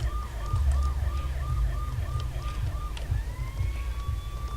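An ambulance siren wails in the video game Watch Dogs, a rapid repeating yelp that shifts into a long rising wail over a constant low engine drone, with no talk in between.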